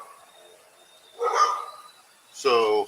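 Two short bursts of barking from the neighbours' dogs a little way off, separated by a pause, with a quiet word spoken near the start.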